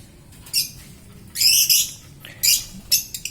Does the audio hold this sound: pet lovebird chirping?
yes